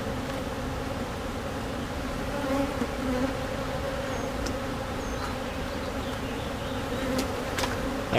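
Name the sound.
honeybees buzzing around an open beehive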